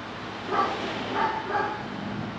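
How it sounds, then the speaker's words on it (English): Faint dog barks in the distance at an old silver mill, three soft bursts spread over a couple of seconds against a steady hiss of background noise. "Yeah, that's the dogs."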